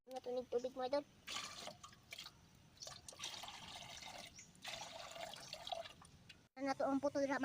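Water rolls and bubbles at a boil in a pot set up for steaming puto rice cakes, a steady hiss-like wash under talk that opens and closes the stretch.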